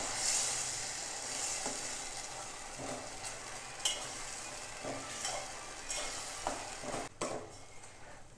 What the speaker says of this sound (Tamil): இதை நல்லா கலந்து விட்டுறலாம்.